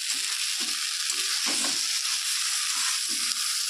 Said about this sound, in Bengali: শাকটা আমি কচুর সাথে দিয়েই কষাচ্ছি, কারণ এর সবুজ ভাবটা যাতে কেটে যায়।